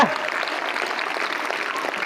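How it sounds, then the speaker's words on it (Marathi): A school audience at a gathering in Solapur district claps hard and fast, a dense, continuous burst of applause close by, with faint voices mixed in. "ज्याने खरोखर जोरात टाळ्या वाजवल्या"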